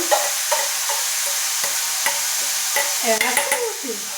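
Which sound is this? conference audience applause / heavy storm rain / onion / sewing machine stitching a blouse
onion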